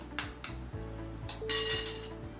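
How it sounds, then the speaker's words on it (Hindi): Three eggs cracked one after another against the rim of a large bowl for French toast, giving sharp, close clinks and taps with a brief tinkle, fairly quiet against a low room hum. "तो सबसे पहले मैं अंडे तोड़ लेती हूँ तीनों"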